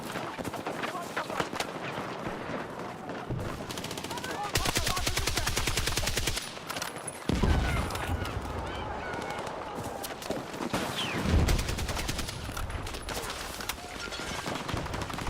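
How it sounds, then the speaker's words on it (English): Rapid automatic gunfire and single shots in the video game Battlefield 6, loud close bursts repeating through the clip with a player's voice talking over them. "I am just dodging bullets."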